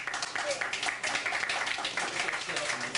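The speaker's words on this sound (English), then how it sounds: "give him a round of applause, eh?" A live audience applauds a featured performer at a café open mic night, with dense, steady clapping that holds at an even level from start to finish.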